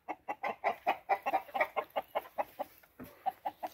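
Game chicken hens, among them a brown red hen, cluck in a rapid rhythmic series of short close calls, fairly faint and with no voices over them.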